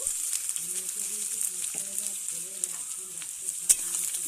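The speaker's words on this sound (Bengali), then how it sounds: "দিয়ে আমি পেঁয়াজ আলুটা ভেজে নেব" Chopped onion and potato fry in a pan with a steady, soft sizzle, accompanied by faint tonal background sounds throughout.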